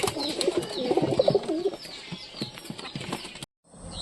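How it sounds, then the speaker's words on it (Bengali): Native and Giribaz pigeons coo in a loft, several soft throaty calls close by in the first half, then quieter rustling before a brief cut to silence. "তো দেশি কবুতর, গিরিবাজ কবুতর, লালো কালোর বাচ্চা"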